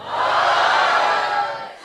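A crowd gathered at an anti-vote-buying event in Indonesia roars with loud cheering and clapping for the moderator, a dense continuous wash of sound that eases slightly at the end.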